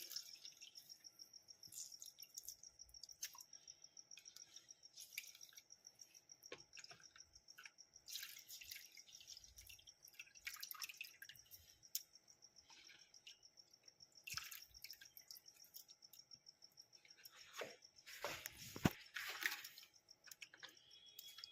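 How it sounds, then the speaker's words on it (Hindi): Faint water sounds as a makeup brush is rinsed in clean water, with sporadic drips, splashes and soft squishing bursts scattered over a quiet background, with no talking. "साफ पानी से हम इसे धो लेंगे।"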